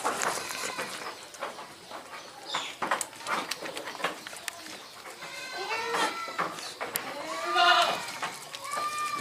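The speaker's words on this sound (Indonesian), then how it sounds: "Ini kambing baru" Goats bleat in a pen, among them new arrivals just brought in, with several wavering cries at moderate distance and a louder call near the end, mixed with faint rustling and a little speech.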